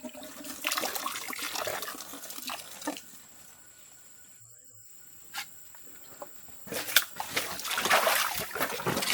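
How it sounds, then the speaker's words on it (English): Water drains and splashes from a bamboo eel trap lifted out of a forest stream, in bursts of trickling and pouring with a quieter pause in between, while insects chirp in the background. "One of the bamboo traps is lifted from the water and drained before the contents can be checked."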